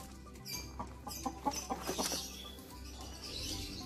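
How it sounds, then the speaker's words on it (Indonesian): Arab breed chickens kept in a home backyard cluck in a short burst of close, irregular calls over a steady background, with brief rustling or wing sounds. "Nah ini ayam Arab nih."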